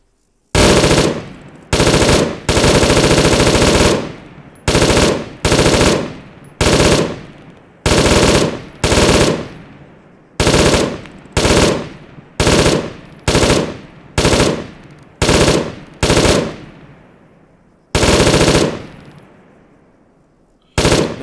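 Loud bursts of automatic gunfire from a NiArms mod weapon in a video game, about a dozen separate bursts of varying length fired in quick succession, close and punchy, with no talk.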